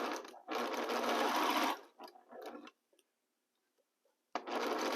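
Sewing machine stitching a quilt fabric block in two loud steady runs, separated by short bursts and a near-silent pause, with close mechanical whirring throughout.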